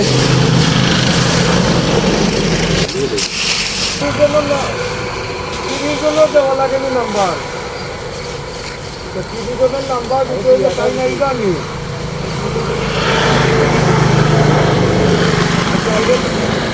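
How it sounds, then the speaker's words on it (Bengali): A sugarcane crushing machine runs with a loud, steady mechanical drone that dips briefly and then continues, while people talk over it. "এই হলো আখ, এই মেশিন দিয়ে বাঙ্গানো হবে"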